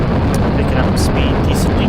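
A rocket lifts off in Kerbal Space Program with a loud, continuous low engine roar and rumble, close and powerful throughout, while a voice talks over it.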